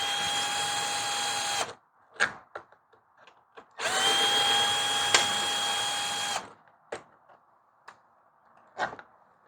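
A power tool spins out the carburetor bolts on a lawn mower in two loud, sustained whining bursts of a few seconds each, separated by clanks and handling noises, close by.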